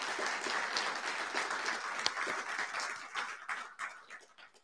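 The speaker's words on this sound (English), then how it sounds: "So another applause, please." An audience applauds at a military assumption of command ceremony for a support squadron. Steady, moderately distant clapping from many hands carries on for several seconds, then thins out and fades toward the end.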